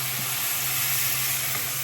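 Hot water hits frying onions and meat in a pot, a loud, steady hiss of sizzling steam that continues evenly throughout.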